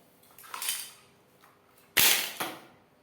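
Utensils dropped into a vessel, a few sharp clattering hits with the loudest clank near the end, close by and otherwise quiet.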